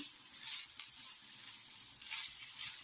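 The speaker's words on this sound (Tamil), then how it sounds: "அப்படியே வந்து வதக்கிட்டே இருக்கலாம்" Vegetables for veg fried rice sautéing and being stirred in a pan: steady sizzling hiss with repeated scraping strokes of a spoon, close and moderately loud, no voices.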